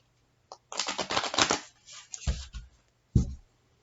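A Moonology oracle card deck is shuffled by hand, with quick riffling bursts and a few soft taps of the cards, close and alone.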